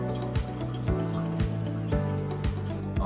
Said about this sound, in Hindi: अभी मैं यहाँ पर थोड़ा पानी ले रहा हूँ